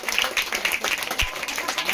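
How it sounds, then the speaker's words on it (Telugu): An audience at a gathering claps in a dense, rapid patter for two seconds, fairly loud and sustained, with a voice briefly audible through it. "గట్టిగా క్లాప్స్ కొట్టండి."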